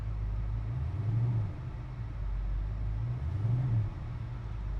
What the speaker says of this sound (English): We just started the car.